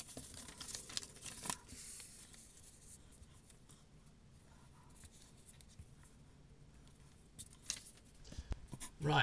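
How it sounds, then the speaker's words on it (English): Scissors snip through yellow paper in short, quiet crisp cuts and rustles, with soft paper handling noises between them at close range. "What I'm going to do now is cut out a square of yellow paper to go around and frame off the image."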